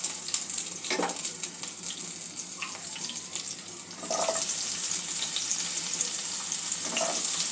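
Bitter gourd (kantola) fries in a pan over tempered spices, a steady hiss of sizzling oil that grows slightly louder partway through, with occasional stirring scrapes and clinks.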